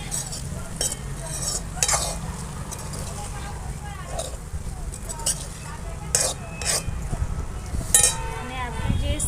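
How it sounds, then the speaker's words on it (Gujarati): Okra and potato curry being stirred in a pan, a spoon scraping and clinking against the metal in irregular strokes over a soft background sizzle, with a person talking nearby. "હવે બધું ફરી મિક્સ કરી દઈએ."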